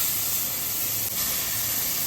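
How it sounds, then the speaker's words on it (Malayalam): Carrots sauté in leftover ghee for a carrot payasam, giving a steady close-up sizzle and hiss that holds evenly throughout. "ആ ബാക്കിയുള്ള നെയ്യിൽ തന്നെ ഒന്ന് ക്യാരറ്റും കൂടെ വഴറ്റിയെടുക്കും"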